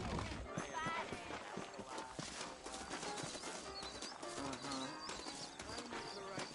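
Horses' hooves clip-clop steadily in Red Dead Redemption, with a whinny and some birdsong, while someone speaks over the rhythmic hoofbeats throughout.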